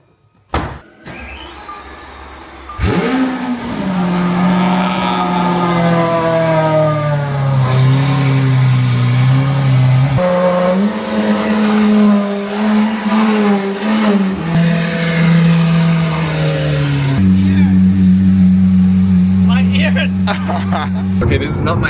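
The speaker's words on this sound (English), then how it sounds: "this car is straight pipe and there's a custom exhaust on it" A loud, raspy straight-piped Lamborghini SVJ with custom exhaust revs and drones from close by at night in Bangkok, rising and falling through long pulls, with people talking over the engine.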